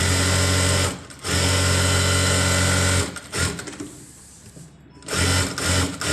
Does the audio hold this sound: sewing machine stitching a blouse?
yes